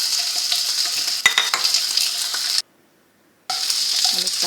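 Chicken wings fry in a hot pan with a bright, dense sizzle and occasional utensil clinks, briefly silent before the crackling returns.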